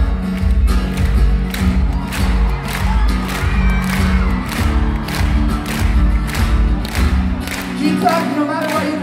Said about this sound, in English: Keep on clapping no matter what happens.